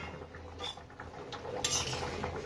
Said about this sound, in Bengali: ঢাকনাটা খুলে দিচ্ছি।